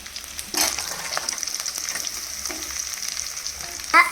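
Chicken with onion and coconut sizzles steadily in a pan while being stirred, with a constant close frying hiss, soft scraping strokes and a louder clatter near the end.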